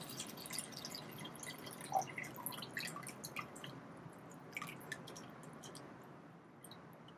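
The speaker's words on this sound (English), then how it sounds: "leave it very still until all the water stops running out of the tank" Water draining out of a volumeter tank used for hand volume measurement, a faint steady trickle with scattered small drips and splashes, close and quiet with no voices.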